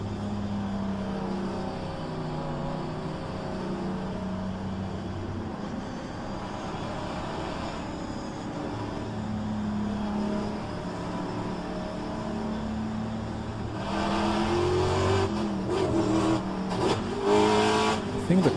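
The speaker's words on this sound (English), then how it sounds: "I think the car is extremely loud." A race car engine in a racing sim at Mont Tremblant drones continuously with shifting pitch as it accelerates and changes gear, then turns rougher and harsher near the end, with talking mixed in.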